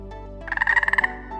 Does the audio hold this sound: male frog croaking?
yes